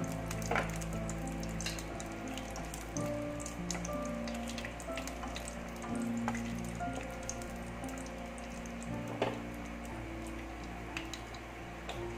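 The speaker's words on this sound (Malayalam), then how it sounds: "ചൂടായി കണ്ടിപ്പരിപ്പ് ഞാൻ ഒരു എട്ട് പത്ത് കണ്ടിപ്പരിപ്പ് ഞാൻ ചെറുതായി കട്ട് ചെയ്ത് വെച്ചിരുന്നു" Chopped cashew nuts fry in a hot pan for caramel semiya payasam, giving a continuous light crackle and patter of tiny pops close by, without speech.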